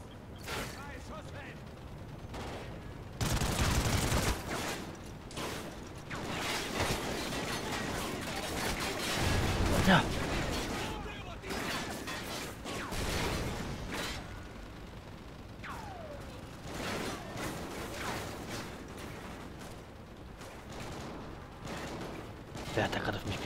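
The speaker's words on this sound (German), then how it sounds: "Wer hat da gerade auf mich geschossen, so extrem?" Gunfire in the first-person shooter Call of Duty: Ghosts, with repeated loud bursts and sharp shots spread across a busy battle soundscape, mixed with game effects and voices talking throughout.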